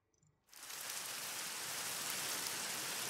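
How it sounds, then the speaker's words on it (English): Minecraft rain sets in abruptly after a brief quiet moment, swelling into a steady, even hiss of falling rain that stays constant and fairly soft, with no voices over it. "Oh, and my days, it's raining."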